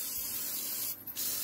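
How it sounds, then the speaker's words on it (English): Aerosol lubricant sprays in a loud, continuous hiss onto a car's brake bleeder screw and suspension joints and end links, with a brief break before the spray resumes. "I spray that really well."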